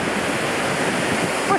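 Waterfalls at the Fairy Pools on the Isle of Skye pour in a steady, dense roar of rushing water, loud and close, with no break across the whole stretch.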